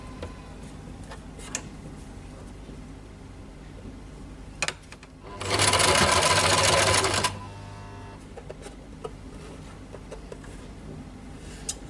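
A sewing machine stitches a Katori blouse in one loud, steady burst of rapid mechanical whirring lasting about two seconds, surrounded by quiet handling clicks and light fabric rustle.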